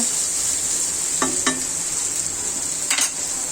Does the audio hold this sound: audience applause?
no